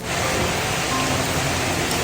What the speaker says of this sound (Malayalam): അപ്പോൾ അതാ പുറത്ത് നല്ല മഴ പെയ്തുകൊണ്ടിരിക്കുകയാണ്.